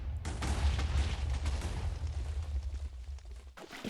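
A Minecraft TNT cannon loaded with sulfur cubes sets off a rumbling blast that starts abruptly and booms on as a rolling, crackling roar for about three seconds, then cuts off, followed by a brief new burst.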